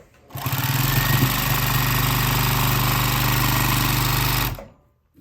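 A sewing machine stitches a vinyl project bag in one loud, steady run of rapid mechanical thumping that lasts about four seconds and then stops abruptly, with no speech.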